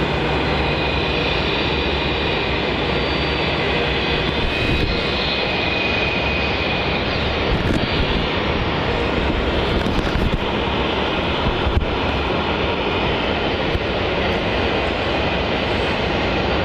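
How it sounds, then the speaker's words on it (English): Qantas Link Embraer E190 jet departing runway 27 at Melbourne Airport, a steady loud broadband engine roar held throughout without breaks or talk. "Our next departure off of runway 27 is going to be the Qantas Link Embraer E190 QF1988 departing to"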